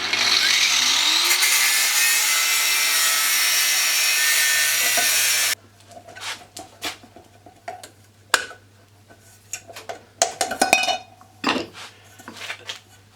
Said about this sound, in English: Let's cut the handle off.